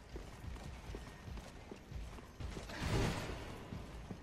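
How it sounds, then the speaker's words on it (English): Enemy footsteps in Dark Souls 3, an irregular run of soft, hollow clip-clop thuds at moderate distance, closing with a louder, scraping shuffle of armored movement; no talk. "I hear more footsteps."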